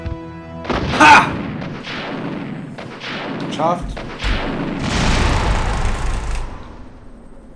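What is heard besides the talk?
explosion in Resident Evil PS1 video game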